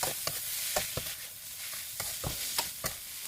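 Dry-style Thai minced pork with holy basil stir-fries in a hot pan, giving a steady sizzle. Rhythmic spatula scrapes and knocks come roughly every third of a second, with no voices.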